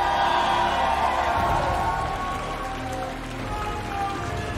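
At the LEC Winter Finals, an arena crowd cheers and applauds G2 Esports in a loud, steady roar like heavy rain that eases slightly toward the end. An announcer's voice sits under it.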